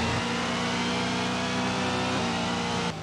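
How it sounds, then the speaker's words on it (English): A V8 Supercar engine in the racing video game V8 Supercars Race Driver revs hard and continuously, a loud, steady, high-pitched wail with a rumbling low end that drops off slightly just before the end. "These cars scream and rumble, so don't be stingy with the bass if you have a surround setup."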